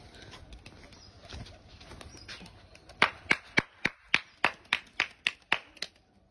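Two pigeons are released on their first flight, and a quick run of about ten sharp wing claps rings out close by. The claps follow a stretch of quiet background rustle.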